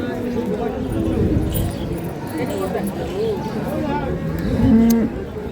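Cattle lowing amid a busy crowd at a livestock market, with people talking throughout and a louder moo near the end.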